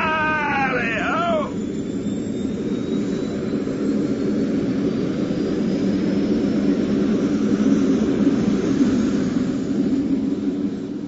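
A spacecraft engine ignites and roars into takeoff in a radio drama, a loud sustained jet-like rumble with a rising whine, preceded by a brief warbling electronic tone.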